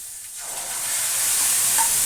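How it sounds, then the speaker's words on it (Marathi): Spice tempering for dal sizzles in hot oil, a near hiss that swells and grows louder over two seconds, with no talk. "दाईला फोडणी घालायची राहिली होती ती मी फोडणी घालून घेते"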